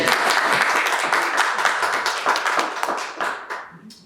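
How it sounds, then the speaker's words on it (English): Audience applause for a middle school Teacher of the Year at a church panel event, a dense steady wash of many hands clapping that is loud and close, then tapers off near the end. "That deserves a round of applause."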